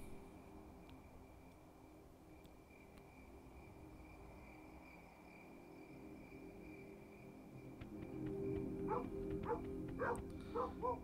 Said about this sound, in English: Which way is he barking?